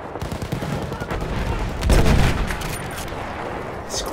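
Mortar rounds landing in Battlefield 1, with a heavy low boom swelling near the middle amid ongoing crackling gunfire and battle noise, loud and close.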